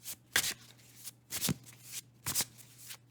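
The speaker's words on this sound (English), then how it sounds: "let's also get you a couple of cards of either astrology or numerology" Astrology or numerology oracle cards being shuffled in three quick riffling bursts separated by short pauses, close up, with a faint steady hum underneath and no speech.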